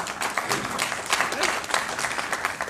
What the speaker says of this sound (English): I wasn't looking for a round of applause.